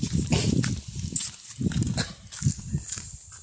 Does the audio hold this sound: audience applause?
no